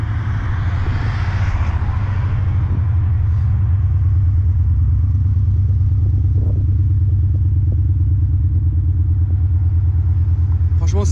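The BMW Z8's engine, derived from the Morgan GT3 Aeromax unit, runs at a steady deep idle, loud and close, with a constant low rumble throughout.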